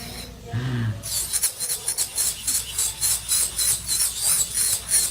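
A high-pitched electric nail drill files a fingernail, its rasping whine pulsing in a regular rhythm after a brief quieter start.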